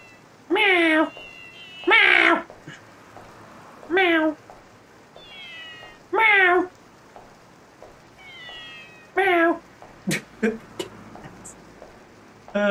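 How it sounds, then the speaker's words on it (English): Cats meow in a video game cutscene, five loud, drawn-out meows spaced a second or two apart, then a cluster of shorter, sharper cries near the end. "Oh, the cats."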